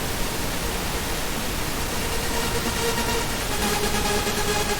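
A steady wash of hissing noise fills the clip, with a soft sustained synth pad tone faintly rising beneath it, constant in loudness throughout.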